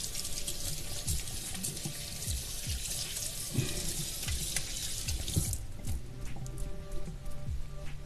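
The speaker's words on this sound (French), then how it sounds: "on va se rincer rapido les mains" Hands are rinsed under a running kitchen tap, a steady close stream of water splashing into a sink, with dripping and splashing changes as the hands move, and no talking.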